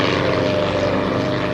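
Propeller aircraft engines drone steadily overhead, a continuous loud rumble with a low throbbing beat, from wartime patrol planes flying out from an escort carrier at dawn to hunt U-boats.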